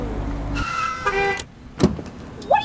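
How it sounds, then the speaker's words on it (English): A car parking on a Los Angeles street, heard as a low engine and tire noise that gives way to short squeaks and sharp mechanical clicks, close and fairly loud with no talk. "I think I'm parking my car."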